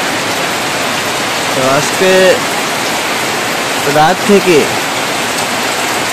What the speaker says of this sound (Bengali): 12টার পর থেকে এই মুষলধারে বৃষ্টি শুরু হয়েছে